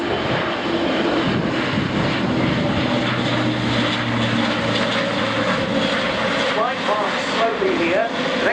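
Airbus A400M military turboprop transport flying a slow low-speed air display at RIAT 2013, a loud continuous propeller drone with shifting engine tones throughout, overlaid by a commentator's voice.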